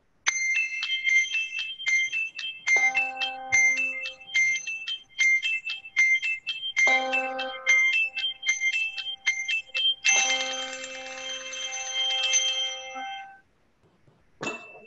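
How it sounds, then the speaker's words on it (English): Bright electronic chimes open a church Sunday service, ringing in repeated melodic phrases with a sustained cluster near the end, loud and alone before fading out. "Okay, so we do have chimes."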